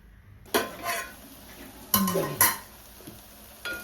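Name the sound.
stirring dried shrimp tomato curry in a pot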